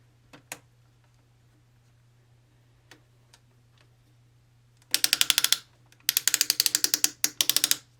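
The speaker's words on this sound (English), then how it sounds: "Who does ratcheting waist swivels on an official toy?" Two runs of rapid, sharp plastic clicks come from the ratcheting waist swivel of a Transformers Legacy Commander Class Motormaster toy as it is turned, following a few isolated ticks in near silence.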